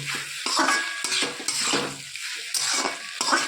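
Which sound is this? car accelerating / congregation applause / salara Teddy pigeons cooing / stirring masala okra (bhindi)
stirring masala okra (bhindi)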